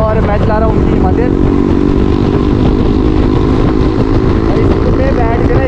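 A Royal Enfield Himalayan motorcycle engine runs steadily and loudly up close on a road trip from McLeod Ganj to Chandigarh, a constant rumbling drone with road and wind noise throughout.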